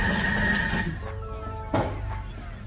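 A Thermomix mixes granola on speed 3 in reverse, a motorized whirring with a rattling churn that drops in pitch and winds down partway through, followed by a brief clunk, close and moderately loud.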